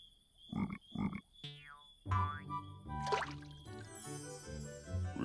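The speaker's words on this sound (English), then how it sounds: "The frog likes to croak together with all the other frogs." Cartoon frog croaks sound as two short throaty pulses, followed by springy boing effects and playful musical tones in a children's animated song.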